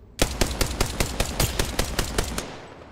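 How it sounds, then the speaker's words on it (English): Rapid automatic gunfire from enemies in the video game Apex Legends, about a dozen loud, evenly spaced shots in a steady burst that stops abruptly and leaves a short decaying tail. "The enemies are shooting at me. Getting shot at."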